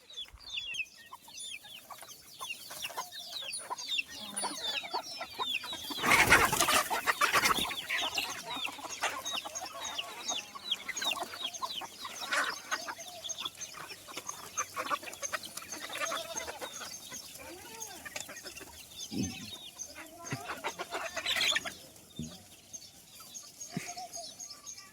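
Chickens cluck steadily on a desi goat and chicken farm in India, a busy flock chattering continuously at close range, with one loud squawking burst early on and no talk.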